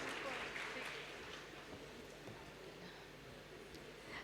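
An audience applauding at the Devi Awards ceremony in Kolkata, a steady wash of clapping from a crowd, fairly distant and soft, holding evenly throughout.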